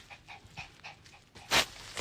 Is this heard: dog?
yes